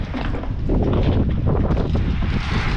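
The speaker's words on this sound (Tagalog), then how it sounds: "Sobrang hangin." Strong wind gusting across an outdoor construction site, battering the microphone with a loud, continuous low roar and rumble that swells and eases for the whole stretch.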